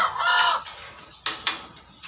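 Caged breeder chickens on a farm clucking nearby, a drawn-out cluck followed by a few sharp, short calls over a quiet background.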